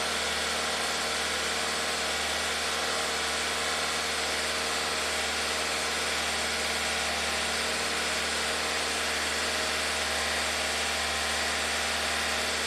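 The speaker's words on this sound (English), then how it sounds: "I'm just going to raise the RPMs a bit." A Ford EcoBoost engine runs with its revs held slightly raised while a fault is diagnosed, giving a steady, close, droning hum with a constant low rumble that does not change throughout.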